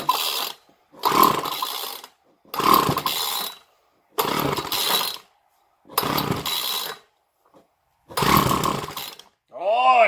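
A $2 Craftsman weed whacker with no choke and air filter removed, sputtering in several short bursts of engine firing about a second apart, close and fairly loud, separated by silent gaps.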